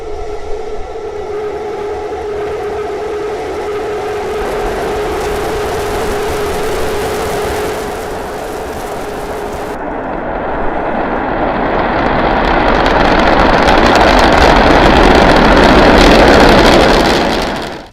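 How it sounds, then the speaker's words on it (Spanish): SpaceX Starship SN9 launching as its three Raptor engines ignite: a loud, sustained roaring rumble that swells and grows harsher and broader toward the end, with no voices. "SN-9 hizo ignición de sus 3 motores Raptor y emprendió su aventura."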